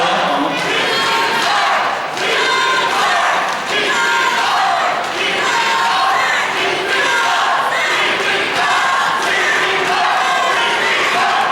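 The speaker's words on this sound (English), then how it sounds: "Crowd getting into this one." A roller derby crowd roars and cheers throughout a bout, a dense, loud, continuous wall of voices with recurring swells and shouts and no quiet gaps.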